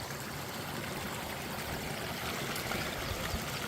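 A mountain stream on a Lake District fell walk flows in a steady, soft, continuous rush of water, with no voices over it.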